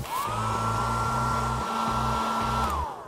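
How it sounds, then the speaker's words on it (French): A handheld hair dryer blows steadily for about three seconds, a loud continuous whine over a low motor hum that rises as it switches on and drops away at the end, with no voices. "Pour se coiffer, il n'y a rien de tel qu'un sèche-cheveux."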